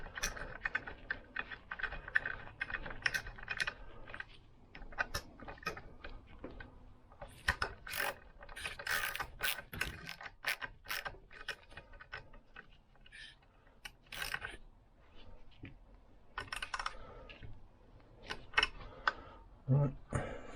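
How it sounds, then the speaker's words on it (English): Bolts are tightened on a Lambretta GP scooter kickstart modification, with close, faint, rapid ratcheting clicks and small metallic knocks continuing throughout. "The centre one can be tightened down now, and then I'm going to do the top and the bottom ones."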